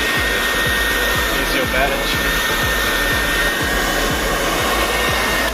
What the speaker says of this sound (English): Sorry about the loud hairdryer.